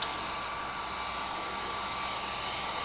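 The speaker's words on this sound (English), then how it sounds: "so I'll usually just blow some air at the edge" A blower sends a steady, even hiss of air across the edge of window tint film on a 2022 Toyota Corolla, close and constant with no talking.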